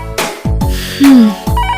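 A short, loud electronic ringtone plays in quick bursts, a warbling tone sliding downward among percussive hits, close and prominent with no talking.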